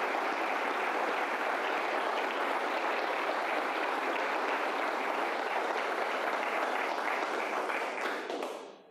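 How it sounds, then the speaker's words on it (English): Applause from a conference audience: a dense, steady wash of many hands clapping that holds evenly for several seconds and then tapers off quickly at the end, with no talk over it. "So we just can't give these guys enough thanks, enough round of applause."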